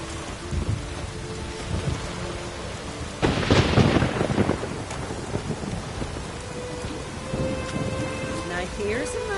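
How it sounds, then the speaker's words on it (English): Heavy downpour in The Witcher 3: dense, steady hiss of rain throughout, broken by a loud, rolling thunderclap about a third of the way in that fades back into the rain. "Raining fucking buckets."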